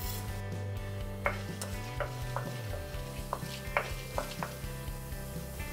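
Mustard seeds and urad dal sizzling in hot sesame oil with garlic, a steady frying hiss broken by sharp crackles and spoon clinks against the pan, no voices.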